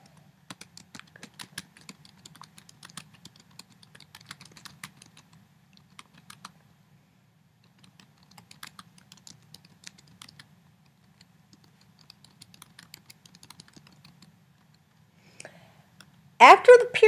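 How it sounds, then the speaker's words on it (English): Someone types on a computer keyboard in scattered runs of soft, quick key clicks, faint and close, separated by short pauses. A louder noise cuts in at the very end. "I will actually type a sentence or two here simply to demonstrate it"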